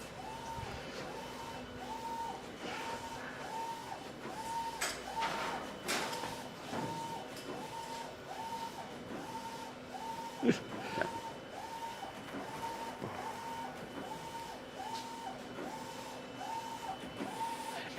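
Mimaki printer running continuously, its print head shuttling back and forth in a steady repeating rhythm of short whirring passes, with a hum of machinery and room noise underneath, fairly close.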